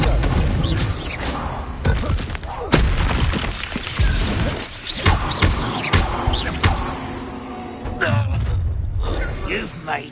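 Hogwarts Legacy combat with a Confringo blasting spell: repeated booming explosive impacts and crashes pile up densely over continuous game audio, with characters shouting and speaking throughout.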